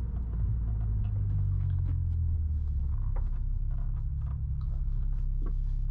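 A 2008 Honda S2000 drives along with a steady low engine rumble and road noise heard from inside the cabin, the pitch rising slightly and then settling, with no talking.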